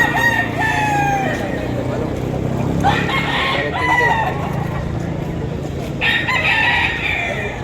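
Roosters crow repeatedly at a gamecock market in Padre Garcia, Batangas, among white-legged and yellow-legged fighting cocks, with several loud crows standing out over a busy crowd murmur and voices.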